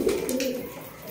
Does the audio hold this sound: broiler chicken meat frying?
no